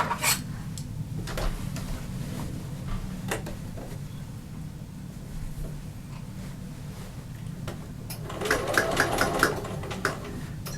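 A domestic sewing machine stitches a fabric machine cover around a corner with a low, continuous mechanical hum, close by, broken by a few light taps and clicks as the needle pivots, with a brief busier burst near the end.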